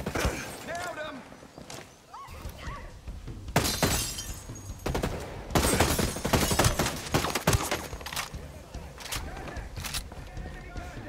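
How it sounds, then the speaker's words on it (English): Lights shot out and shattering during a Ghost Recon Breakpoint firefight, heard as several sharp broadband cracks and breaking bursts scattered through the scene, loud and close, with people talking over them. "I like how you could shoot out lights too"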